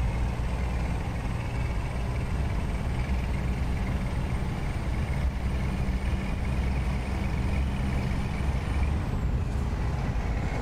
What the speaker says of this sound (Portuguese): curti demais o ronco suave, estralador dessa Scania, já juntamente com o som do intercooler da turbina